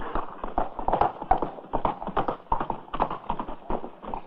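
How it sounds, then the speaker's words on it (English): Rapid, rhythmic hoofbeats pound at a fast pace, a steady run of thuds heard fairly close and clear. "Look at that horse run."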